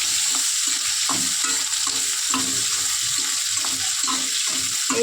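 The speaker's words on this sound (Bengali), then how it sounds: "এর মধ্যে কাঁচা লঙ্কা দিয়ে দিলাম, ক্যাপসিকাম দিয়ে দিলাম, টমেটো দিয়ে দিলাম, একসাথে ভেজে নেবো" Green chilli, capsicum and tomato fry together in a pan for chicken kosha, giving a constant bright sizzle with repeated scraping stir strokes in an even rhythm, close and alone without talk.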